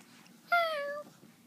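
A person's voice imitates a cat with a single drawn-out, rising-then-falling "meow" lasting about half a second, heard close and alone in a quiet room.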